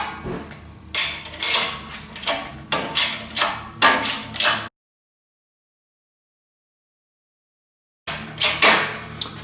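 A press pushes a king pin bushing out of a 1949 Studebaker 2R5 truck steering knuckle, with repeated loud metallic clanks and grinding strokes that stop abruptly and then resume after a silent gap.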